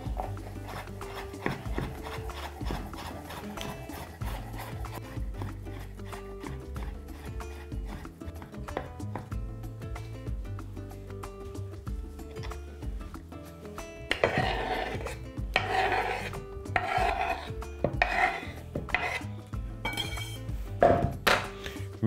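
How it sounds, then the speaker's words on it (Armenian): A kitchen knife finely chops three boiled carrots on a board, making a steady run of quick, close wooden taps and clicks that grow denser and louder toward the end. "սա էլ ենք մանր կտրատում։"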